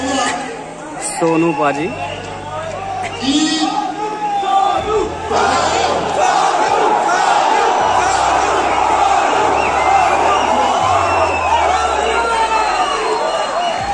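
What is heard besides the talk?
noisy crowd in audition auditorium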